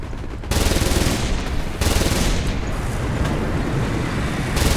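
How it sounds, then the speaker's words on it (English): An anti-aircraft gun firing in War Thunder gives loud, continuous rapid fire, a dense roar of shots that breaks briefly and then resumes. "I'll do a bit of anti-aircraft cover for the lads."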